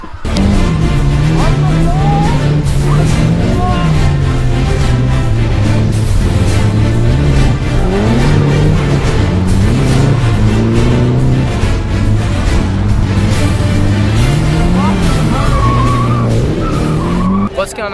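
Loud, continuous engine roar and revving from drifting cars, a Nissan S15 and S13 with an SR20DET engine, running tandem at night, with pitch rising and falling throughout and tire squeal mixed in; voices talk over it.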